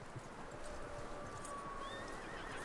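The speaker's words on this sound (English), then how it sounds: "That looks like a decent horse." A horse in a video game neighs and whinnies over soft clip-clopping hooves, faint and somewhat distant against a quiet background, with no speech.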